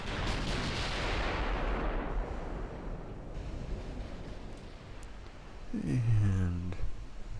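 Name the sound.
warship guns firing in Ultimate Admiral: Dreadnoughts video game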